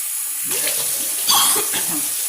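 Tap water runs steadily into a kitchen sink as a pepper is rinsed under it, a constant splashing hiss with soft bumps of handling and no talk.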